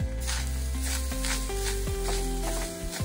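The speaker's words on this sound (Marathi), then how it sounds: "त्यामध्ये आपलं जे खोबरं आहे किसलेलं ते मी घालून घेते" Grated coconut sautéed in a hot pan as part of making steamed modak, with a steady close sizzle and soft stirring scrapes running throughout, while tonal music plays over the sound.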